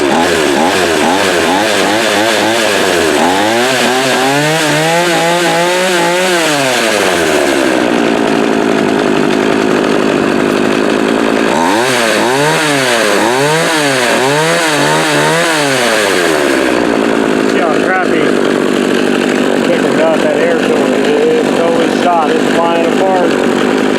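A McCulloch MAC 3200 chainsaw engine runs loud and close, its two-stroke pitch swinging up and down through repeated revs, settling into steady idle between bursts after fresh fuel lines were fitted.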